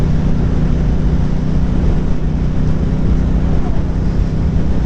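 A 2025 Triumph Bonneville Speedmaster Icon Edition motorcycle accelerates on an industrial road, its loud low engine drone steady under heavy rushing wind noise on the microphone throughout.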